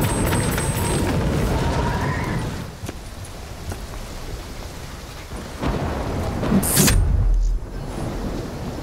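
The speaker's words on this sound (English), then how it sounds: "Incoming superstorm too strong. The storm's only gonna get worse." Superstorm weather in Call of Duty Black Ops 3: steady heavy rain with rolling thunder, then a sharp loud crack of thunder near the end, close and booming over the downpour, with beeping game tones early on.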